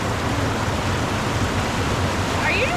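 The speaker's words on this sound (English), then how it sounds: "That river is roaring." A roaring river rushes continuously and loudly nearby, a dense broadband roar with no pauses, heard on a Southern California waterfall hike.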